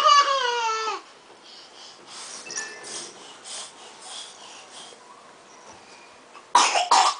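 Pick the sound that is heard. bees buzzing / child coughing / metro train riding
child coughing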